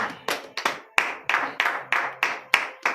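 Rhythmic clapping in praise during a morning prayer, about ten sharp, evenly spaced claps, some landing as quick doubles, close and distinct, with no one speaking.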